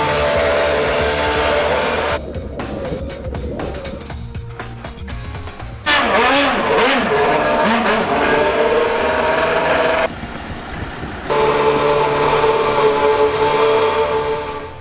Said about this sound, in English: This is the Williams FW33 from 2011.